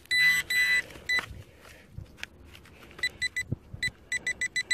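A metal detector searched over a hole in Ayrshire gives a run of sharp electronic beeps, first a few longer tones and then a quick series of short evenly spaced chirps, close and clear over faint outdoor background.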